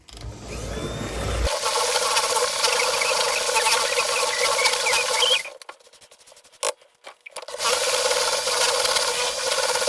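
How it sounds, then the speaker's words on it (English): Rum butter is whisked in a bowl, giving a loud, continuous, rapid scraping and rubbing close up. It drops to a brief, quieter pause near the end, then resumes, with no voices. "I'm going to go in for my final whisk."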